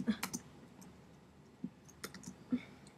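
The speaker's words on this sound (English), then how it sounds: "I'm going to type in A" Keys tapped on a computer keyboard, a handful of crisp, irregular clicks close by with short gaps between them over a quiet room.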